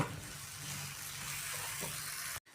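Okra masala with tomato and salt is stirred in a frying pan, giving a steady close sizzle and frying hiss with soft stirring scrapes, which cuts off abruptly at the end.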